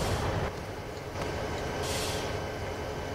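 A diesel locomotive in the video game The Zombie Train runs with a dense, steady rumble and rail noise, loud and continuous with slight surges, no voices over it.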